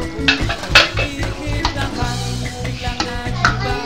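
Meatballs go into a pan of simmering spaghetti sauce with soft clinks and scrapes of a utensil against the pan, over a faint steady sizzle, close and fairly loud.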